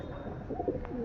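Pigeons cooing softly in a loft, a few low throaty coos heard close up over a steady background murmur with no talk.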